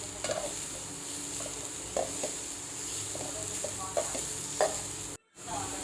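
Ginger-garlic paste sizzles in a pan as it is stirred, with periodic scraping strokes over a steady frying hiss and a brief drop to near silence near the end.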